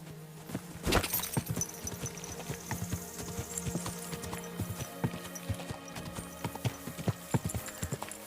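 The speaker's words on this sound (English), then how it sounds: "That looks like a bloody expensive horse." Horse hooves clip-clop in the medieval role-playing game Kingdom Come: Deliverance, a steady irregular clatter of hoofbeats close by, with a brief whinny early on and faint background ambience.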